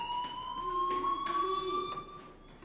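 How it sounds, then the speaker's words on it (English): A school fire alarm in the video game Life is Strange rings as a steady, piercing electronic tone with pulsing beeps, loud and continuous with no voices over it. "do you hear that fire alarm? That means you should be outside"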